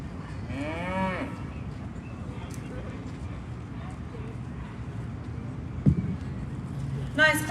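Angus heifers moo at an open cattle show, one drawn-out bellow near the start and another at the end over a busy arena background with distant voices and a sharp knock.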